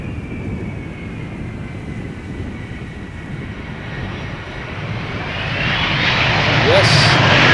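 A 17-year-old airliner arrives at Amsterdam Schiphol Airport, its engine roar a steady broad rumble that swells louder and closer over the last few seconds.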